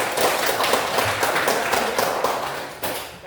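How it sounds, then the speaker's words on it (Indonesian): A school class claps steadily together, a dense patter of many hands filling the classroom for a few seconds. "Tepuk tangan semuanya."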